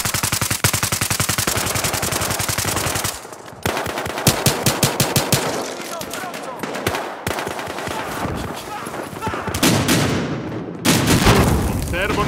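Gunfire in Battlefield Hardline online multiplayer, loud rapid machine-gun bursts in long sustained strings with brief pauses, mixed with heavier booms and shouted voices in the background.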